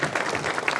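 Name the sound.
audience applause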